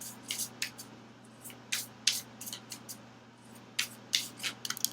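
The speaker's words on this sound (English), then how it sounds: "More shuffles" Tarot cards are shuffled close by in quick, irregular bursts of crisp papery riffling and sliding, separated by short pauses over a faint steady hum.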